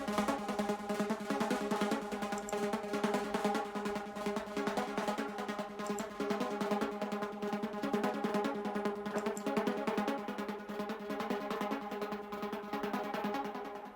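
Synth pluck played dry, without chorus effect, a repeating melodic pattern of bright plucked notes in a steady rhythm, sustained and moderately loud with no voices.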